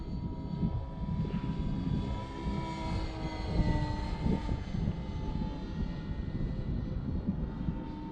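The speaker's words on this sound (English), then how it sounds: "It's just a very well-behaved plane." Model airplane motor droning steadily overhead on a windy day, a continuous whining engine tone that holds through the whole stretch with wind noise underneath.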